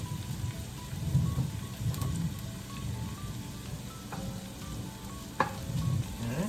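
Oil and ingredients frying in a pan before ground beef is added, a steady close sizzle and crackle with faint scattered pops and a light clink, no talking.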